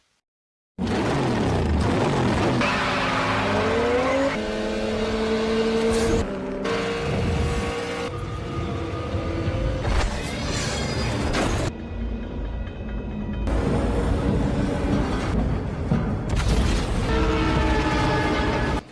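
Film soundtrack from The Fast and the Furious (2001) with cars racing across railway tracks: loud continuous engine roar and passing vehicles, layered mechanical noise and rising tonal sweeps, sustained throughout with no talk.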